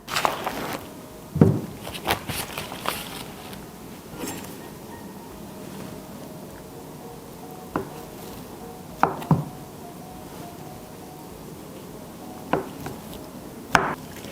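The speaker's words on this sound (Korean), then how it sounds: "칼을 사용해서 가로, 세로 높이가 1cm인 정육면체로 잘라줄게요" A knife cuts cold unsalted butter into 1 cm cubes for baking: a few soft, sparse knocks against a board with quiet gaps between them.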